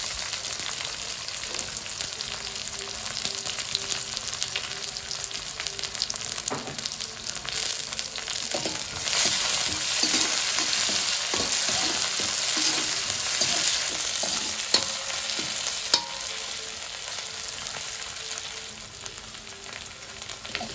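Crushed garlic, ginger and curry leaves frying in a pan, a sustained close sizzle with intermittent spatula scrapes and taps against the pan, steady throughout.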